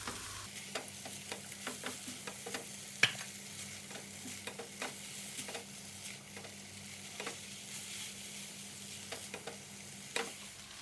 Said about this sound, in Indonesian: masukkan bihun. Diaduk sampai rata.